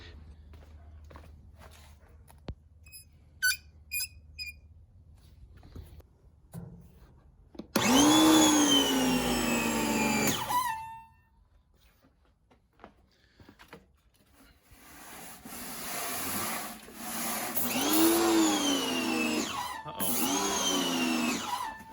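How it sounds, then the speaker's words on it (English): Craftsman pressure washer with a surface cleaner attachment on a driveway, starting up with a loud steady whining roar, cutting out briefly, then roaring again near the microphone after scattered clicks and handling noises. "I'm just gonna go ahead and fire on the pressure washer now"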